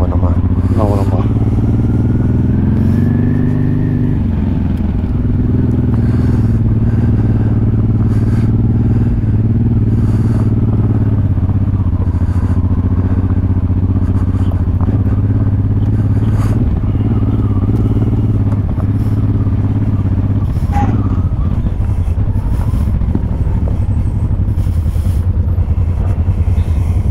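Honda Transalp motorcycle riding off-road at an enduro training park, its engine droning loud and steady throughout, rising and falling with throttle, with rattles and crunches from rough terrain and voices talking over it.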